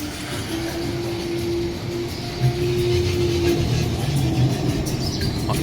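Iron Gwazi roller coaster rolling past at Busch Gardens Tampa Bay, a loud continuous rumbling roar with a sustained steel whine running through it, heard from nearby amid park ambience.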